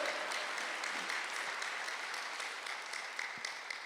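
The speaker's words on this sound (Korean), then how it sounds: "빨리 박수하세요." A church congregation claps during a Sunday worship service, a faint, distant patter of many hands heard steadily throughout, with a few sharper individual claps standing out.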